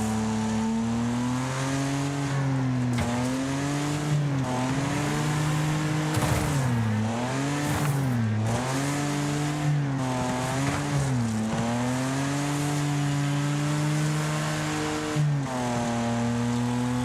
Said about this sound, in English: I really like the way that the engine sounds when it's pinging the fucking high RPMs